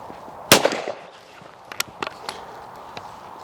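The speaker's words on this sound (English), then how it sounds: "we're going to go back and shoot a few with the new folding 410" A new folding .410 shotgun fires one sharp, loud shot, followed by several fainter cracks and thumps that trail off outdoors.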